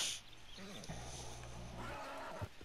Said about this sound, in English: Don't get behind that horse. He'll kick your ass.